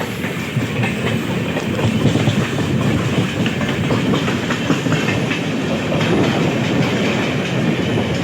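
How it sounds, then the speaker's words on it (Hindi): The Lucknow Intercity passes close on the line toward Prayagraj via Phaphamau, its wheels beating a loud, steady clickety-clack over a continuous rumble that lasts the whole stretch. "तो सामने से क्रॉस हो रही है लखनऊ इंटरसिटी।"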